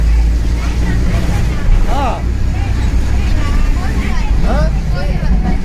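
A bus rumbles steadily with a loud low engine drone while passengers chatter nearby over the noise.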